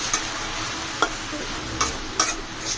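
Greens and potatoes being stirred in a frying pan, a continuous low sizzle broken by a few sharp utensil taps against the pan, close and fairly loud, with no talking.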